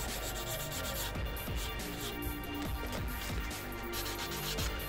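Plastic model seam lines are sanded with abrasive paper in steady, repeated rubbing strokes, close up and fairly quiet, with no voices over it.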